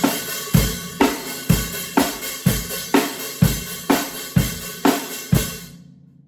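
A black metal drum kit plays a steady 4/4 beat, led by washy hi-hat and crashing cymbals, with a sharp hit landing about every half second before the ringing decays into silence.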